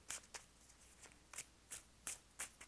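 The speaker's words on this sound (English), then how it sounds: "I always feel bad just shuffling in silence." Tarot cards being shuffled during a love reading, heard as quiet, crisp riffling bursts repeating roughly every third of a second, close up with no talking over them.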